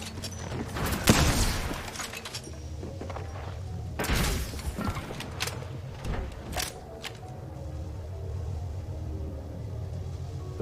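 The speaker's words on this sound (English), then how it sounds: "The enemies are shooting at me." Enemy gunfire in the video game Apex Legends: a dense burst of shots and heavy thumps near the start, a second loud volley around the middle, then scattered shots over a steady low rumble of game noise.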